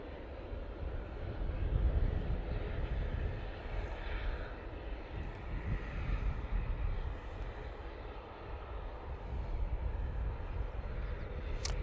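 An easyJet Airbus A319 departs Manchester Airport bound for Malaga, its jet engines a low, steady roar at a distance that swells and ebbs gently throughout.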